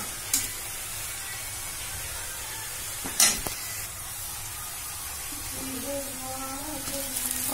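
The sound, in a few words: onions frying and being stirred in a pan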